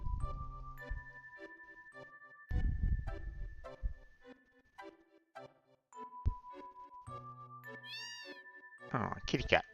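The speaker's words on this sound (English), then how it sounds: "Oh, kitty cat." Meowing from a cat in a video game plays in short repeated bursts over game music and ticking sounds, fairly faint with a chime near the end.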